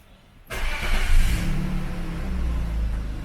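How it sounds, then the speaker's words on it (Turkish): A 2000 BMW E39 engine cranks and catches after a keyless go button press, jumping from quiet into a loud, close idle rumble with a brief rev that settles into a steady hum. "basılı tuttuğumuzda aracımız çalışacaktır"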